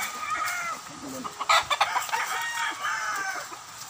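Derby fighting roosters crow at a chicken farm, with a loud crow in the middle amid clucks and other birds nearby.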